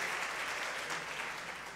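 Inside a church, a congregation gives a short burst of steady, dense clapping that stays at an even level and starts to fade at the end, with no voices over it.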